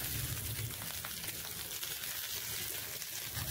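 Chopped tomatoes and green chillies fry in hot oil in a kadai, giving a quiet continuous sizzle with a wet, hissing texture that stays steady and close.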